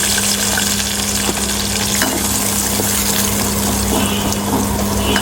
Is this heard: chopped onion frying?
yes